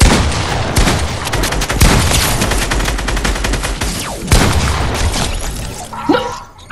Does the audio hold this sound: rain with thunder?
no